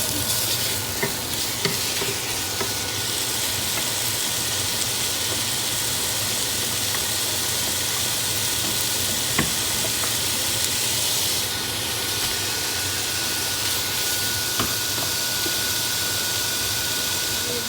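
Meat sautéing with ginger, onions and a little salt in a pan for ginataang munggo, a loud continuous close sizzle and hiss with occasional faint utensil taps, no talking.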